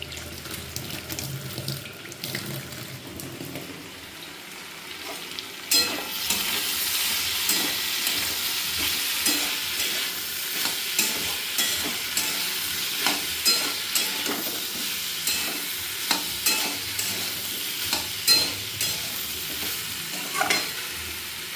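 Cumin powder stirred into food frying in a pan, with a low sizzle and then rhythmic spoon scrapes and clinks repeating steadily against the pan, close and without voices.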